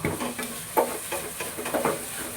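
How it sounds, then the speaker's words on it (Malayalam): Chili, coriander and turmeric powders roast in a pan for Kerala-style chicken curry, a soft continuous sizzle with rhythmic stirring scrapes close by. "പൊടിയുടെയൊക്കെ പച്ചച്ചുവ മാറുന്നവരെ വറുത്തതിന് ശേഷം ചീനിച്ചട്ടിയിൽ നിന്ന് കോരി മാറ്റുക"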